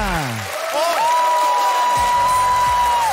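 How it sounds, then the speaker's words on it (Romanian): A comedy battle show audience bursts into steady applause and cheering, with a long sustained whistle sounding over the clapping. "Aplauze pentru Augustin Zaina"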